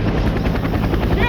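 Military helicopter at a landing zone, its rotor thudding in a fast steady rhythm over a loud, continuous engine roar that stays close and constant throughout.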